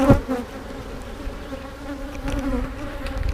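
Honey bees buzz steadily around an opened hive that is low on numbers, a dense droning hum close by with no voices, after a brief knock at the start.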